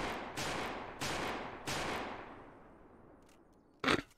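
Gunfire in the video game Unturned: three sharp shots in quick succession with trailing echoes, a quiet pause, then a louder, abrupt final shot.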